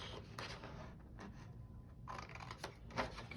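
Scissors cutting a piece out of construction paper make faint, close snips and crisp slicing sounds that come in short bursts over a low room hum.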